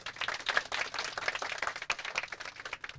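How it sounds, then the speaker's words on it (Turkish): Students applauding at a cultural trip gathering in Konya, Turkey, with brisk, uneven clapping from a modest group, close and lively, rising and falling in bursts over a few seconds. "Bir alkışla başlayalım mı?"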